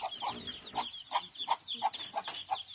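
A chicken clucks in a steady run of short, sharp calls, about one every third of a second, fairly close, with a bit of background noise.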